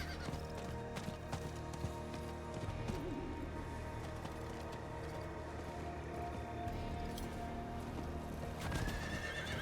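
Horse galloping in the video game Diablo IV, steady rapid hoof clip-clops with a neigh, over dense game ambience and music, moderately loud throughout.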